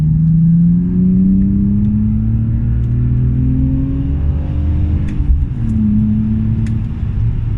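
A BMW E46 with a backbox-delete exhaust revs loud and close, its throaty drone climbing steadily in pitch, dipping briefly, then rising again, with no talking.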